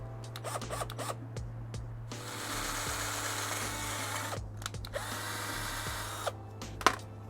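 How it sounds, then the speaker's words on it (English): A power drill whirs steadily in two long bursts, drilling a hole in an F30-style V-brace held in a vise, with short clicks and handling noises before, between and after, all close by. "Now it's time to go drill a hole."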